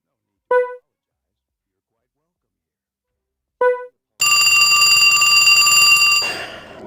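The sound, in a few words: telephone ringing in video game Trauma Center: New Blood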